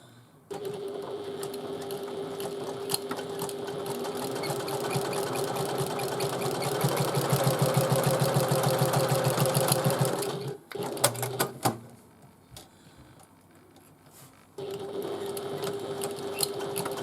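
A sewing machine runs steadily and close up, stitching down each side of a fabric bag, then pauses briefly with a few clicks and handling sounds before starting again.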